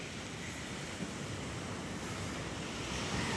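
Ocean waves wash up near a seaside hut after a storm, a dense, steady roar of surf with wind buffeting the microphone and no distinct break between swells.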